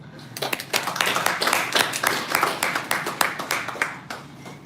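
A small group of wedding guests claps in a warm burst of close, uneven hand claps that gradually thin out over a few seconds.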